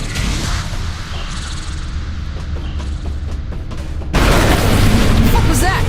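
Bombs explode in the video game Saints Row 4, a dense, loud rumbling blast that swells and then jumps into a harsher, louder burst near the end, with speech faintly mixed in.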